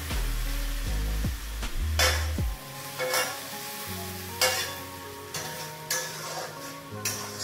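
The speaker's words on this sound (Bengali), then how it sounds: "এইবার মশলাটাকে বেশ ভালো করে নাড়াচাড়া করে নিলাম" Spiced masala with chilli and turmeric powder stirred in a hot pan, a steady sizzle and fry under repeated scraping strokes of a spoon against the metal, close and continuous.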